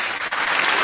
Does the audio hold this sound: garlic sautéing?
no